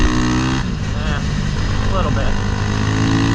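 A Honda Grom mini bike fitted with a CBR300R engine runs loud and near, its steady buzzing engine note climbing in pitch as it accelerates, while someone speaks briefly over it.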